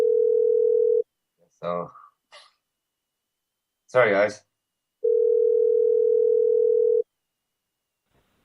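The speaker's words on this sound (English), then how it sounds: "Your phone cut out." A steady phone dial tone sounds after a call connection cuts out, running alone for a second, breaking for brief talk, then returning for about two more seconds.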